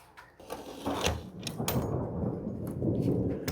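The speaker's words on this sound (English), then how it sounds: "Because that was thunder" Thunder from a thunderstorm rumbles low and broad, building after a few sharp knocks into a sustained muffled roll at moderate level.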